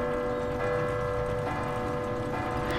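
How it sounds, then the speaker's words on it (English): A clock bell ringing three o'clock in the video game Resident Evil 2 Remake, with ringing chimes that sustain over a dense, constant game soundtrack. "that clock going off and hitting 3 o'clock when the bell goes"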